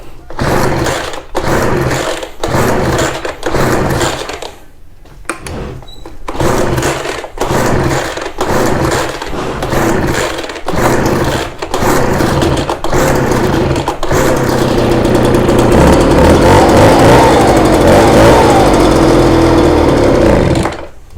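Ryobi BR42 backpack leaf blower engine sputtering and surging in repeated bursts with short drops, then holding a steady, louder buzzing run toward the end, close and loud.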